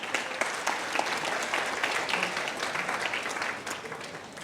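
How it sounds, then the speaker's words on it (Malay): A seminar audience of men and women claps together, a dense, steady round of applause lasting a few seconds without talk. "Bagi tepukan kepada tuan-tuan dan puan."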